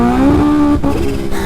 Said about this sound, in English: Just blowing the tire off.